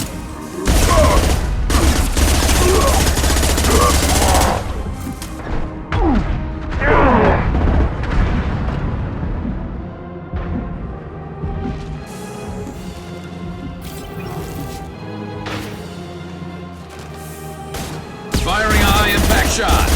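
Heavy gunfire and booming impacts in Mass Effect 2 combat, loud and dense, with repeated bursts and crashes throughout, thinning briefly in the middle before surging again near the end; some voice chatter mixed in.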